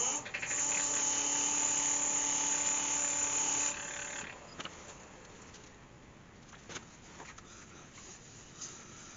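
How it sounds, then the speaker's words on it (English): Sandpaper of 400 grit Abranet presses against a spinning figured walnut piece on a lathe, a steady high buzzing hiss for a few seconds that cuts off, leaving faint lathe hum and light taps. "So I'll just sand that back with a piece of 400"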